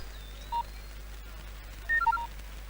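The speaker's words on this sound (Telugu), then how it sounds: "ఇప్పుడు చెయ్యి, వాడు ఎత్తుతాడు." Telephone keypad tones from a handset as a number is dialed: one short beep, a pause, then a quick run of several DTMF beeps, clear and fairly close over a quiet low hum.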